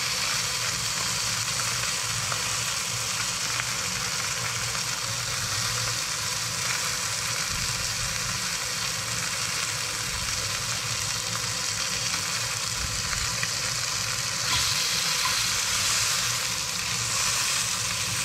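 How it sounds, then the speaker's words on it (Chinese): A slice of fish skin pan-fried dry in a hot pan, giving a steady, even sizzle and crackle throughout with no voices, the hiss swelling slightly near the end. "现在换煎另外一块皮"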